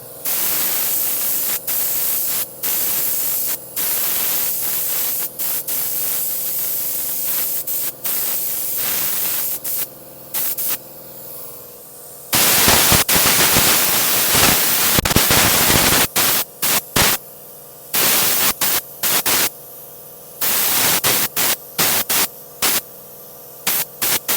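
Bursts of aerosol spray hiss onto a torn leather seat of an Infiniti QX80 in short repeated blasts, then a longer sustained spray in the middle followed by more quick spurts, close and loud.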